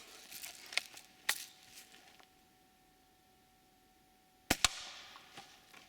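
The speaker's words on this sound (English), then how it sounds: "We'll shoot it one more time just to make sure that is shooting is true" Vintage Daisy Buck BB gun fired, a few faint sharp pops in a quiet room, then a louder crack with a quick trailing tail near the end, widely spaced and heard alone.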